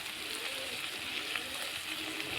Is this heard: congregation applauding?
no